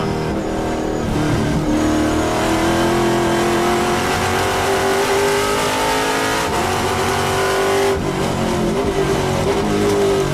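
TA2 race cars at Road America scream past at high speed near turn 1, with loud engine whine rising in pitch, brief downshifts and continuous, close roaring throughout.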